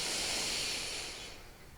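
A yoga instructor draws in a long, deep breath, a soft airy hiss that starts full and fades toward the end.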